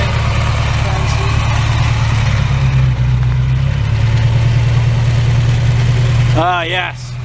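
A 1978 Ferrari 308 GTS V8 with stock exhaust idles steadily with a deep, low rumble, close by and continuous, at a car show in Chambly, Quebec; near the end a voice briefly speaks over it.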